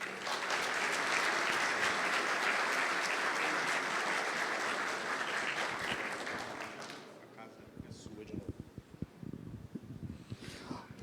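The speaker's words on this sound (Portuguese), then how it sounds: "Senhoras e senhores, recebam com uma salva de palmas" Loud, sustained applause from a symposium audience welcoming a speaker to the stage, dense clapping that fades out after about seven seconds into a few scattered claps and room noise.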